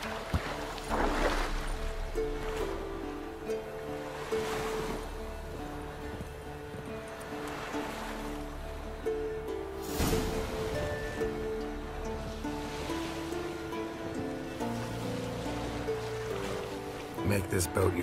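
A boat moves across a lake in The Witcher 3, with soft water lapping and swishing against the hull under game music and frequent character dialogue.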